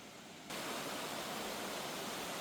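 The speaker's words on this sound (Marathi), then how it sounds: "असा हा मस्त झरा पण वाहतोय" A small monsoon-season stream flows beside a temple, its steady, loud rushing hiss starting abruptly and continuing without pause.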